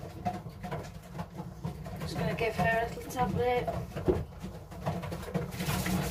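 Pigeons coo softly in a loft during canker treatment, low rolling coos under close, continuous talk from a person handling the birds.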